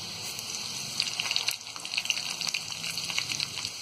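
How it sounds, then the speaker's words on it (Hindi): Oil sizzling and crackling steadily as garlic and cumin fry in a hot pan, with a dense, bubbly hiss throughout. "यहाँ लहसुन को हम हल्का गोल्डन ब्राउन होने तक फ्राई कर लेंगे"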